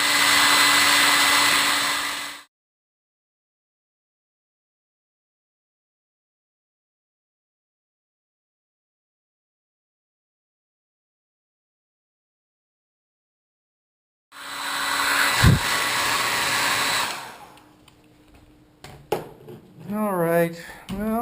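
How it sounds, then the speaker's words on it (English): A hair dryer blows loudly at close range on a motorcycle seat for about two seconds, falls silent, then runs again before cutting off. Clattering handling noises and a voice follow. "I'm going to get a hair dryer and put it on there"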